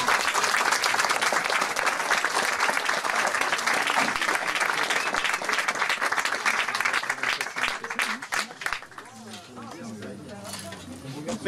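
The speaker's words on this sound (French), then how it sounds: "Applaudissements." A crowd applauds at a medieval knighting ceremony, loud sustained clapping for most of the stretch before it thins out and a voice starts speaking as it fades.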